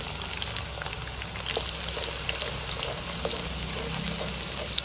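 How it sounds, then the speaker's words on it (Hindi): Onions fry in hot ghee with a constant, dense crackling sizzle that holds steady throughout at close range and fairly loud level, with no voice over it. "प्याजों को अच्छी तरह से सुनहरा ब्राउन करेंगे हम।"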